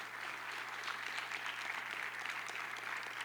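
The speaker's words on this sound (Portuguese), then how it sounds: "Você pode dar uma salva de palmas ao Jesus?" A church congregation at a Portuguese-language service gives a sustained round of applause, a steady, fairly distant wash of clapping with no speech on top.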